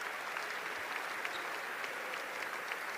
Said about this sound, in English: he'll get a round of applause here from the fans at the Atlantic Union Bank Center.